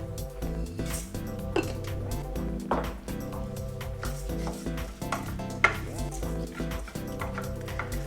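Red lentils being stirred into a pot of tomato and onion soup, with a spoon clinking and scraping against the pot in scattered taps over steady background music.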